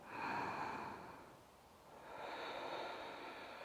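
Deep, audible breaths during Ashtanga yoga practice, a long airy exhale followed by a pause and another drawn-out breath, close and soft with no talking.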